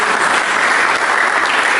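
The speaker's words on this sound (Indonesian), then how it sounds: "Mari kita menyambut dengan tepuk tangan bagi Tuhan Yesus." Church congregation applauding after a scripture reading, a dense, steady wash of clapping hands that fills the space at full volume for the whole stretch, with no voices breaking through.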